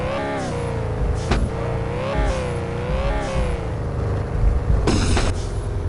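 A car engine in a police or park ranger driving video game revving repeatedly, rising and falling in pitch in several loud, close surges, with no talk over it.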